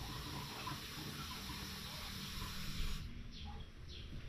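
A strong, continuous gush of water runs from a newly connected kitchen sink faucet, hissing steadily and fairly close before cutting off abruptly near the end, leaving faint drips.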